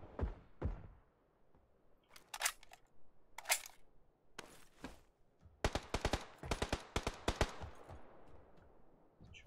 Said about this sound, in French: Il y a un autre mec qui me tire dessus.